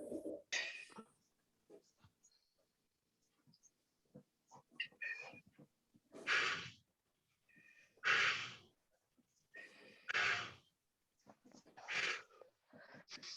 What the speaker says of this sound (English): I hear lots of breathing.